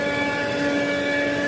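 A Rainbow vacuum cleaner running on its turbo setting gives a steady, even motor whine and hum that holds unchanged throughout, with no voices.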